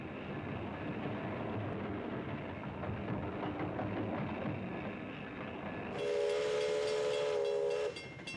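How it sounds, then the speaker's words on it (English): Steam train of the mountains rumbling and clattering along the rails in Tasmania, steady hiss and chuff throughout, then a loud shrill steam whistle blasts for about two seconds near the end. "riding on a steam train like this"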